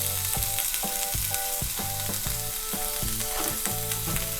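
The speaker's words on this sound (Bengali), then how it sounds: "আঁচটাকে কমিয়ে আমি খোসাগুলোকে ভালো করে ভেজে নেব, যতক্ষণ না পর্যন্ত খোসাগুলো সেদ্ধ হচ্ছে" Pumpkin peels frying with salt and turmeric in a pan, giving a steady, loud sizzle with rhythmic stirring scrapes repeating throughout, no voices.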